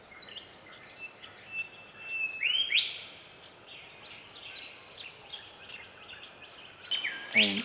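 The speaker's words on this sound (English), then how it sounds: "The chicks have left the nest now, and one flew down here. It was calling to mum, so I filmed it." A young yellow robin chick, fledged and out of the nest, calls repeatedly to its mother: a string of short, high, clear chirps in an uneven rhythm over about eight seconds, close and fairly loud against a quiet outdoor background.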